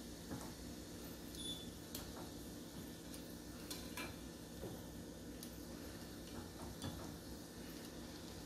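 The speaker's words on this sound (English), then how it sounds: "let's get the shrimp going and this nice butter and garlic I got going on here with a little Old Bay" Shrimp cook in butter and garlic seasoned with Old Bay, a quiet, steady sizzle broken by repeated clicks and scrapes of a utensil stirring in the pan.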